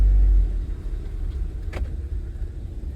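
A 2013 Ford Escape with a faulty left rear wheel sensor drives forward, picking up speed, with a steady low engine and road rumble throughout and one brief sharper click partway through.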